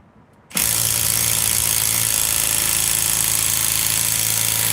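A power impact wrench on wheel lug nuts starts abruptly after a brief quiet moment and then hammers loud and close in a continuous rattling burst that runs to the end.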